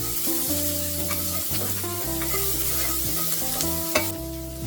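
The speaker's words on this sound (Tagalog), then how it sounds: "Isunod nating igisa ang sibuyas." Onion sautéing in a pan with garlic, a steady close sizzle of frying with stirring scrapes throughout, while sustained musical tones play underneath, no talking.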